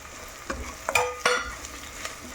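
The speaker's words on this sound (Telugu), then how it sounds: "ఉల్లిపాయ వేగింది ఉప్పు కారం పసుపు వేస్తున్నాను" Onions sizzle in a pan as salt, chili powder and turmeric go in for a Konaseema-style mango coconut pulusu, with a steady frying hiss broken by three or four sharp spoon scrapes and stirs, nearby and alone.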